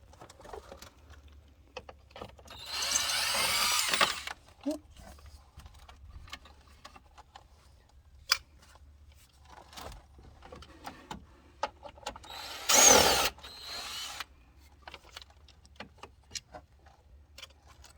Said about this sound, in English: Take these 4 bolts out.